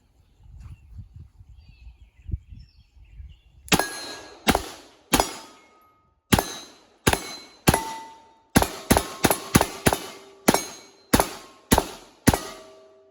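Shots from a suppressed Beretta M9A4 pistol strike steel targets in a quick uneven series of about fifteen sharp cracks, each followed by a bright ringing clang, after a few seconds of quiet handling noise.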